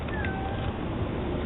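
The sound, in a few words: cat meowing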